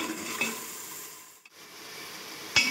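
Ginger garlic paste and onion paste sizzle and fry in a pot, with soft stirring scrapes, a brief dip in the middle and a sharp clink near the end, close and with no voices.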